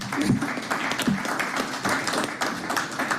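Brief scattered applause at a city council committee meeting, a patter of hand claps from a small crowd that continues steadily for a few seconds.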